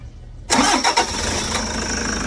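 A Toyota Hiace diesel engine cranks briefly and catches after a fuel filter change, then settles into a steady close idle, loud and alone with no talking.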